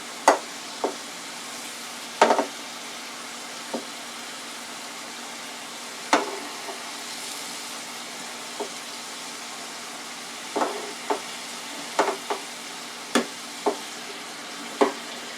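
Diced sweet potatoes, onions and peppers fry in a pan with a steady soft sizzle, broken by frequent sharp scrapes and clacks as the mix is stirred, close and alone.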